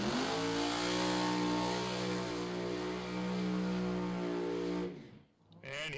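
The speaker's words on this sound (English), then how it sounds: "he does a burnout all the way to almost 80, 90 feet" A 1941 Willys Coupe pro mod drag car does a burnout: a loud, gruff, sustained engine roar holds for several seconds, then abruptly drops away.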